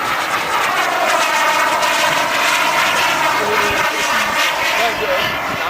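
A turbine-powered RC jet model aircraft flies past at an RC jet meeting, its loud, steady jet whine rising and shifting in pitch as it passes, with someone talking over it.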